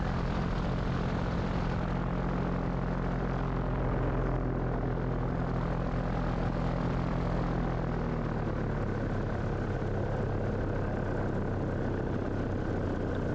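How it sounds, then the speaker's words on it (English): Powered paraglider motor idling on an icy winter landing approach, a steady droning propeller hum that holds throughout, close and continuous with no voices. "Pretty much just letting the motor idle and making the runway from the glide slope."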